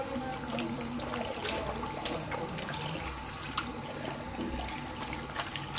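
Water running steadily during a shampoo hair wash at a spa salon, a continuous splashing hiss broken by occasional louder splashes, with no voices.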